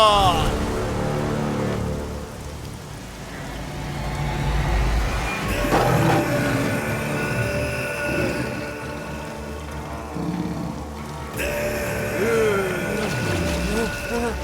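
Steady rain pours through a dramatic action film scene, a constant hiss that stays fairly loud beneath a swelling music score and occasional sharp effects.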